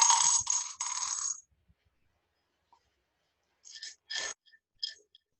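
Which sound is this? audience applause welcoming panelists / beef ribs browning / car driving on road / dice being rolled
dice being rolled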